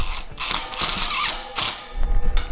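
A 1/4 inch self-tapping screw driven into a minivan cargo rack: a short burst of close, uneven ratcheting and grinding with bright scraping bursts, loud and with no voices.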